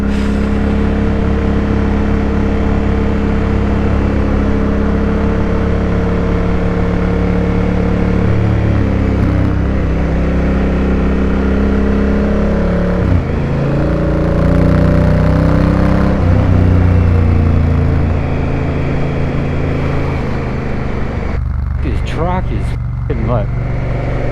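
A big adventure motorcycle runs in third gear at about a quarter throttle along the loose pea-gravel Parma fire trail near Yerriyong, its engine a loud, continuous close drone shifting in pitch, with brief rattles near the end.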